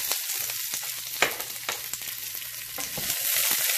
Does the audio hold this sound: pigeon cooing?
no